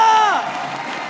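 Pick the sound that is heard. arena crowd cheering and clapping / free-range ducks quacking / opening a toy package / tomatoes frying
arena crowd cheering and clapping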